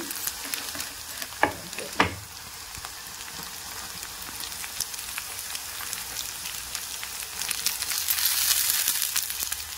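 Sprouts frying in a pan with masala for a chicken curry give a soft, steady sizzle with scattered crackles and a couple of sharp taps near the start, then the hiss swells slightly toward the end, with no talking.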